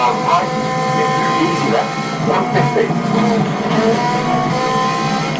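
Engine of a car in a racing video game, revving steadily with shifting tonal whine throughout, accelerating as an upgraded car picks up speed, with a voice talking over it.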